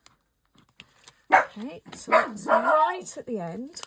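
A dog barks a few times close by, mixed in with a person speaking over the barks.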